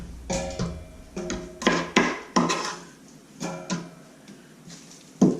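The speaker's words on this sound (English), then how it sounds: "Again, chopping up the onion." Knife strikes on a wooden board as an onion is chopped, in irregular bursts, a few sharp chops then pauses, close and moderately loud, with faint clinking between.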